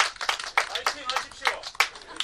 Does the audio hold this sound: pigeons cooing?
no